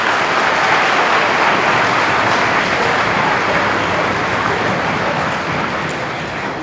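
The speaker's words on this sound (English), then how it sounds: "Let's give a round of applause to these sixth graders." Audience applause for a sixth grade band at a middle school evening concert, a loud, dense, steady clapping from a large crowd that tapers off slightly at the end.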